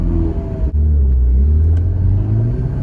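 A Ferrari 488 Spyder engine roars loudly close up in manual mode, with a quick gear shift cutting the note briefly before it climbs again as a steady, rising rumble.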